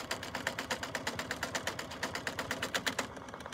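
An embroidery machine stitches a quilted potholder in the hoop, giving a steady, fast rhythmic clatter of regular needle strokes, close and continuous until it suddenly stops near the end.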